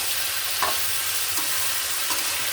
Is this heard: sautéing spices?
yes